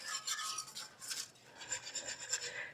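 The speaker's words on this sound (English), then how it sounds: "Because I like to whisk my gravy." A whisk scrapes and swishes through tomato gravy in a pot, quick rhythmic scratching strokes in bursts with a brief pause, close and fairly faint, with no talking.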